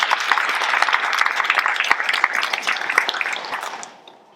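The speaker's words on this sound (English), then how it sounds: "Let's give him a round of applause." Audience applause at a community district event, dense steady clapping from a crowd that carries for about four seconds and then fades out.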